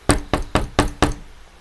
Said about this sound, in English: They get a knock on the door.